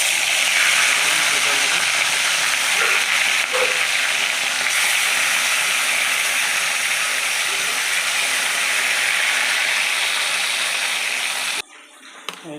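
Hot oil in a pan, used for cooking a katla fish recipe, sizzles and fries with a loud, continuous hiss close up for most of the clip, then cuts off abruptly near the end.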